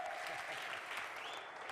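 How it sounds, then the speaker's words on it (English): A church congregation at a revival service claps their hands in a dense, continuous burst of applause, with faint singing or voices beneath. "Let us clap our hands."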